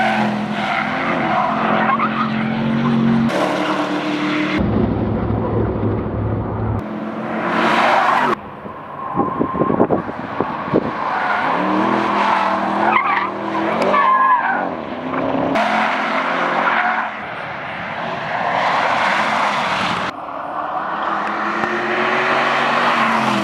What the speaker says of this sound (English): Fair amount of sliding goes on with this car.